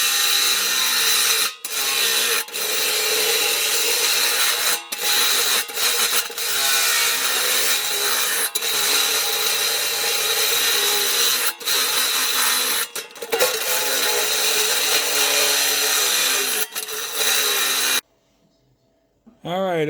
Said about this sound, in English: after about 25-30 minutes of drilling